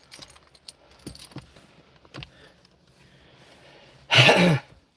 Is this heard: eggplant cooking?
no